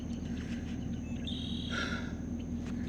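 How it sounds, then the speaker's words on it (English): Outdoors in fine weather, faint steady insect chirping hums in the background while birds sing a few brief, high chirps and trills, quiet and distant. "you can hear the little crickets and the birds singing"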